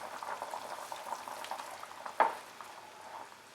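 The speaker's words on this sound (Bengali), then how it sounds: "এবারে এই ভেজিটেবল স্যুপটাকে আমরা ততক্ষণ ফুটিয়ে নেব" Vegetable soup with black pepper boiling in a pot, a soft continuous bubbling simmer with one brief louder clink partway through, no voices.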